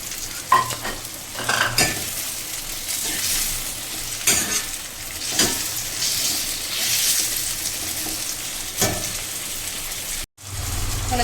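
Cashews sizzling in a hot pan with tomatoes and fried onions for malai kofta, with a steady frying hiss broken by scraping stirs from a spoon and a brief silence near the end.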